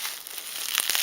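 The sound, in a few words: peeling off layers of bubble wrap packaging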